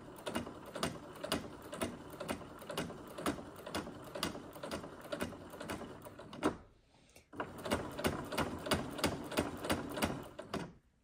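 A sewing machine stitches a straight hem in a rapid, steady clatter of needle strokes, pausing briefly before resuming at the same even pace, close and clear.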